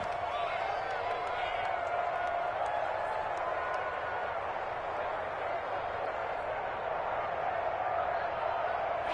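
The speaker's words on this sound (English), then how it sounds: "The crowd getting into it as we come up on a big third down." Stadium crowd noise from a football video game rises as a big third down approaches, a broad continuous roar with faint cheering and scattered whoops, steady and loud throughout.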